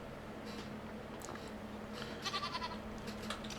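Goats and sheep bleat faintly in Farming Simulator 25, a few scattered calls over a low steady background hum.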